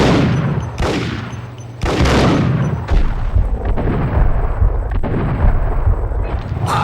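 Loud gunfire in the video game Max Payne: several sharp, booming shots in quick succession with heavy echoing tails, close and forceful, followed by rattling debris and lingering reverberation.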